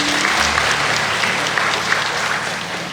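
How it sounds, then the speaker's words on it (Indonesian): A church congregation breaks into loud, sustained applause, the crowd clapping densely and evenly for a few seconds and fading slightly toward the end. "Tepuk tangan dulu untuk Tuhan."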